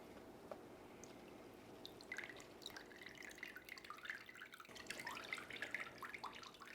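Water drips and trickles from a freshly watered plant pot during repotting, a quiet, close patter of irregular droplets that becomes busier in the second half.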